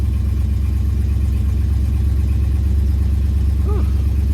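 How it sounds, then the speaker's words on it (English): An older car engine runs at a fast idle with the choke on, a loud, steady, close-up rumble with an even, unbroken beat throughout. "Idles right off the bat. Choke's on, fast idle's working."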